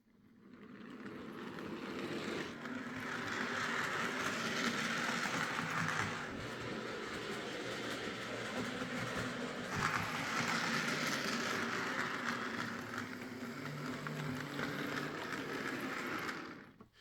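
A Hornby James the Red Engine model locomotive runs under power, giving a steady whirring motor drone with faint track rumble that holds at an even level and swells slightly partway through.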